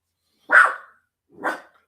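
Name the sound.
dog barking at a tap on the door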